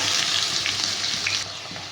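Potatoes sizzle in hot oil in a pan, a dense steady frying hiss close by with no talking, dropping slightly in level near the end.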